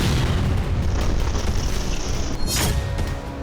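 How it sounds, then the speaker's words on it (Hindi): A missile strike explodes at a market in Kostiantynivka, a loud, dense roar of blast noise that holds steady with a sharper burst near the end. "माना जा रहा है कि कई कारणों से मिसाइल कोस्तियांत्निविका के बाजार में गिरी।"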